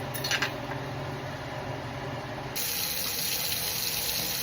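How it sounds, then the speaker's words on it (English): Water from a tap pours steadily into a pan of toasted rice being made for chalupas, a continuous rushing stream that grows brighter and louder partway through as the flow picks up. "Now let's put some water."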